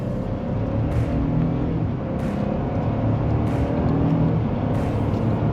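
A 2025 Ford F-150 STX 4x4 SuperCrew with its 2.7L EcoBoost V6 pulls hard under acceleration, a steady loud engine drone heard from inside the cab with no talking.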